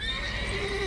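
A mare neighs in The Witcher 3, a short, bright whinny with a wavering, tonal cry, held fairly close over faint ambient background.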